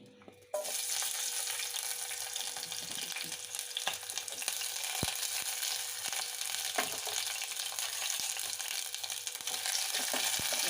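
Chopped green chillies fry in hot oil with a steady, close crackling sizzle that starts abruptly and holds evenly throughout, with a faint low hum beneath and no voices.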